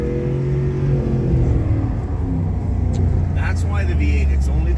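A V8 car accelerating hard while driving through Calgary, a loud low engine rumble rising steadily throughout, with people talking over it.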